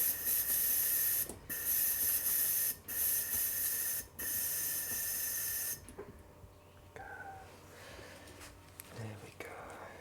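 Airbrush with leftover dark paint spraying for miniature painting, a steady loud hiss in long bursts with brief pauses, stopping after about six seconds into quiet room noise.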